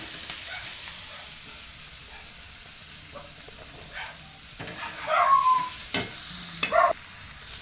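Masala for dhaba-style egg bhurji frying in a pan, a soft steady sizzle broken by a few scraping stirs, with louder clanks of the spatula toward the end.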